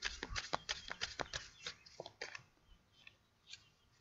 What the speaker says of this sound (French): Là, on entend les oiseaux